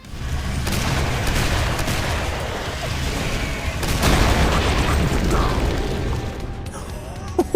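Gunfire and booming blasts roar through Guncaster, a Doom mod, as blood dynamite is shot out of the air, a loud continuous barrage of shots and explosions with heavy rumble throughout.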